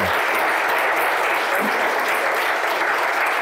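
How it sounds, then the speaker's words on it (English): Audience at a conversation with photographers Jim Alexander and Tom Dorsey giving a round of applause: thick, even clapping from a full room, loud and steady from start to finish with no talk over it. "please join me in giving a round of applause"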